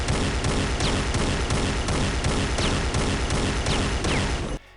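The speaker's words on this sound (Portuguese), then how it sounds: "a Enforcer, você tirava com o gatilho direito, ela atirava verticalmente" Rapid, continuous gunfire from the Enforcer pistol in the video game Unreal Tournament, a loud steady barrage of evenly spaced shots that stops abruptly near the end.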